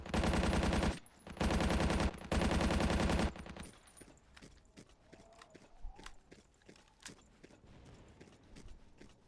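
Gunfire in a snowstorm capture-the-flag video game: three loud bursts of rapid automatic fire, then scattered single shots and softer impacts, with players talking over the action.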